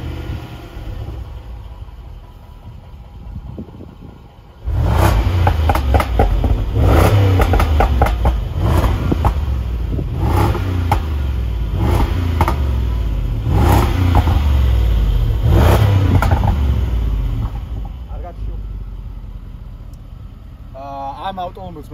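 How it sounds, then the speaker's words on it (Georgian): A Range Rover Sport 5.0 supercharged V8, tuned Stage 1 to about 550 hp, starts up after a quiet lead-in and then revs loudly in repeated surging blips with a steady supercharger whine. It settles back to idle near the end. "5-0 სუპერჩარჯერის ხმა"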